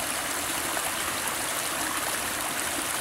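A woodland stream flows on a cool morning, a steady, even rush of water close by that fills the whole stretch without pause.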